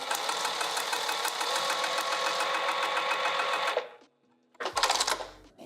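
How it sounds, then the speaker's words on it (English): Close, loud sewing machine stitches along a folded vinyl edge for a sling bag, running steadily for several seconds, then stopping abruptly with a thump and brief handling noise. "And then you're going to sew along each long folded edge."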